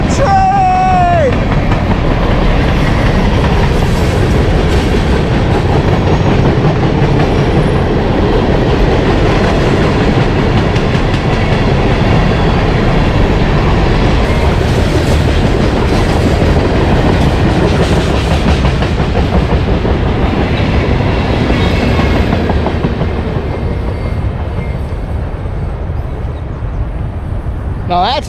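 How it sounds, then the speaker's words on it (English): A train rolls past close by near a park beach, a loud continuous rumble with rhythmic clatter of wheels on rails that holds strong throughout and eases slightly at the end. "Now that's a train."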